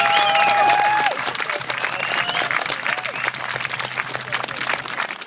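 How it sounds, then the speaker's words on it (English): A festival audience breaks into loud, sustained applause, dense clapping filling the space with a few cheers or whoops at the start, then settling into steady clapping that continues to the end. "If we just give them a massive round of applause for putting this on."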